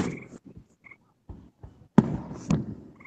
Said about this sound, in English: Oh, it's fireworks going off.